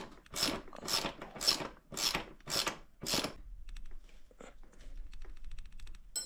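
A nut is tightened with a ratchet while assembling a new RFZ 150cc enduro motorbike: six rhythmic, close bursts of clicking, followed by fainter scattered clicks and small mechanical noises.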